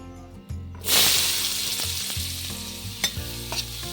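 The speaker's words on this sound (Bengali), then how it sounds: "জিরেটা লাল হয়ে গেছে, এবার পেঁয়াজগুলো দিয়ে দিচ্ছি।" Onions are dropped into hot oil with whole cumin and asafoetida and burst into a loud, close sizzle, with a few stirring scrapes and clinks over the steady frying hiss.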